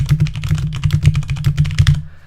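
Fast, close computer keyboard typing with a dense run of sharp key clicks, stopping abruptly at the end.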